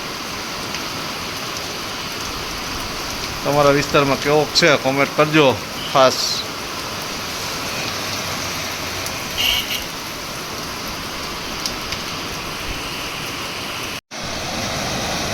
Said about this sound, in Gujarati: આ 2-3 દિવસથી એટલો વરસાદ પડે છે